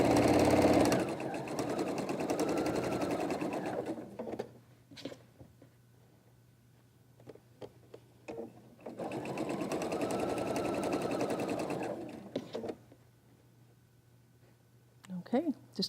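A sewing machine stitches a quilt top in two long steady runs of fast mechanical whirring, separated by a quiet pause with small handling clicks, and someone speaks briefly between the runs.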